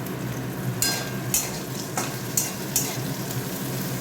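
Bitter gourd and potato slices fry in a pan with a steady, close sizzle, broken every half second or so by sharp scrapes of a spatula stirring them.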